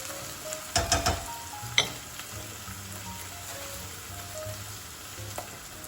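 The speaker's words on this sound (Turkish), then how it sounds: "Soğanlarımızı hafiften soteledik." Onions sauté lightly in hot oil in a pan for cauliflower manti, with a steady, gentle sizzle, broken early on by a few sharp clinks of a utensil against the pan.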